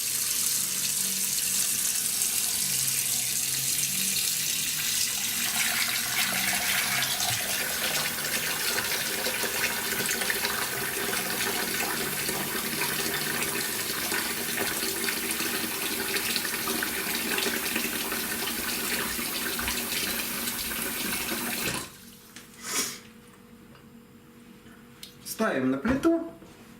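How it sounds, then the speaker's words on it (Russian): Tap water pours steadily into a pot holding chicken, carrot and onion for chicken soup, a loud continuous rushing stream that stops abruptly near the end, followed by a few clanks and a voice speaking. "Теперь наливаем туда воду."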